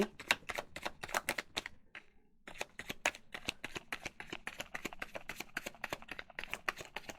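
Tarot cards shuffled by hand, a rapid run of crisp papery riffles and snaps with a brief pause near the two-second mark, close and clear with no talking.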